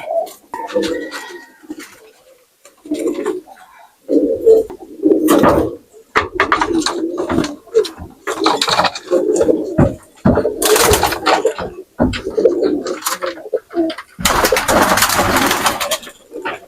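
Pigeons, including the females, are let out of a cage one by one. Cooing and wing-flurry bursts come and go close by, with intermittent talk over them.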